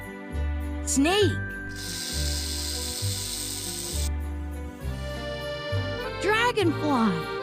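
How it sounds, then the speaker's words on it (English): Snake hiss, a steady broadband hiss lasting about two seconds, set over a looping children's music track with chimes and a sung voice. "Snake."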